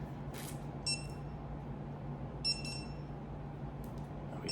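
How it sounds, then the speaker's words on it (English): A Hixddui no-shock dog bark collar gives a short beep, then a quick pair of beeps, then another beep, all high and thin over a quiet, steady background hiss. "one beep is on and two beeps is off"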